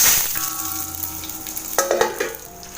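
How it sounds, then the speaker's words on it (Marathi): Dal and dried Byadgi red chillies dry-roasting in a pan on low gas, with a close, soft crackling sizzle and a few clinking stirring scrapes toward the end. "स्लो गॅसवरती भाजून घ्यायची."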